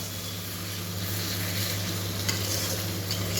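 Tomatoes fry with onion, ginger paste and garlic paste in a pan, a steady close sizzle with a low hum beneath and a few soft scraping stirs of a spatula, no voices.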